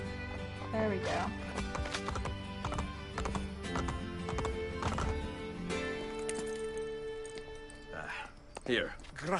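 Assassin's Creed Brotherhood horses gallop in quick repeated hoofbeats amid busy game music and effects, with neighs rising near the end.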